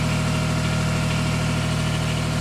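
A Mitsubishi MM15T mini excavator engine runs at a steady idle, a loud continuous close drone with an even low rumble and no speech.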